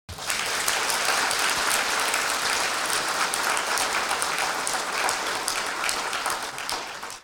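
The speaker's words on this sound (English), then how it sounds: "Let us once again express our gratitude to them with a round of warm applause." Warm, sustained applause from an audience at a university lecture hall event, steady dense clapping filling the room for about seven seconds before tapering off at the end.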